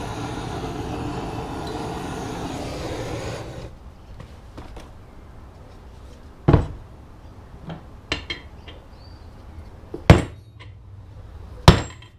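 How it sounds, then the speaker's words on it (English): After a few seconds of background rumble, a metal hammer strikes several times at irregular intervals while dismantling a KTM 250 EXC motorcycle engine, each blow a sharp, ringing clank up close. "More impact and energy with a metal hammer."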